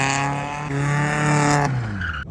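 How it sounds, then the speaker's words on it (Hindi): Sports car drifting with tires squealing loudly and engine roaring close by, a continuous howl that shifts pitch midway, with no talk. "ये तो ड्रिफ्ट मशीन है यार सही में, ये गाड़ियाँ होती है ड्रिफ्ट के लिए"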